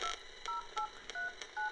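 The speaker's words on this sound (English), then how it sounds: "Now I'm going to make a phone call here." Dialing tones sound on a Mudita minimalist phone while a call is placed: about six short, even beeps in a quick steady rhythm, clear and close with no talking.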